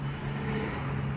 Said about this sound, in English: More glorious traffic noises.